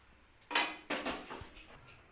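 A bread omelette is set onto a plate, giving two soft clinks of dishware followed by a faint scrape and a light tap, close and quiet.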